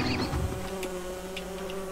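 A bee in the video game Don't Starve Together buzzes with a steady, droning hum, close and fairly quiet, holding a constant pitch for the whole moment.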